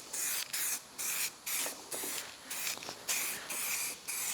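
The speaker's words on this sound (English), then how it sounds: "Just gonna spray some black paint on it just to double check it is smooth." Short bursts of aerosol spray hiss in a steady on-off rhythm, about eight close, even spurts with brief pauses between, as black paint is sprayed onto a tuk tuk body panel.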